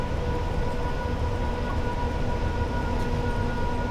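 A Class 86 electric locomotive drones steadily at Oxenholme station in a train simulator game. The motor hum and rumble hold even and continuous with no talking.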